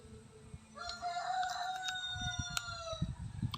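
A rooster or hen calls out in a sustained, tonal crow-like cry near the microphone, with faint background rustling and no speech.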